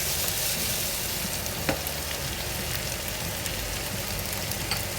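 Onions sautéing for lomo saltado, a steady, dense sizzle and hiss in a hot pan with a brief clack around the middle, no voices.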